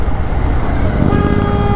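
Road traffic in Hisar heard while riding a Harley-Davidson, a loud, continuous rumble of engines and wind with a short horn toot partway through.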